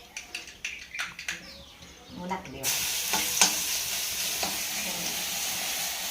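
Crushed garlic and chili go into hot oil: several clicks and stirring taps come first, then a sudden loud, steady sizzle takes over and stays close and strong to the end.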